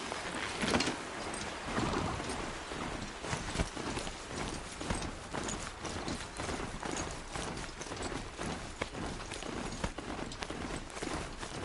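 Horse hooves clip-clopping steadily in the video game Horizon, a continuous rhythmic trot of the mount heard fairly close throughout.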